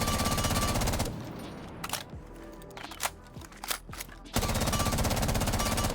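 F2 assault rifle fire in Rainbow Six Siege: a loud, sustained automatic burst, then a quieter stretch of scattered sharp shots and clicks, then another long, dense burst of rapid fire.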